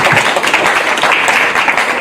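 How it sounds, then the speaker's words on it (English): Audience at the 9th African Library Project Summit applauds a professor after a talk, a dense, steady wash of clapping lasting about two seconds with no talk over it. "Another round of applause for Professor."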